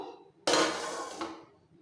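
A lid set down on a heavy cooker pot of hilsa biryani, one sharp metallic clank followed by a short ringing decay and a softer knock.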